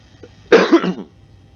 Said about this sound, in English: excuse me there, hand off the mouse to cough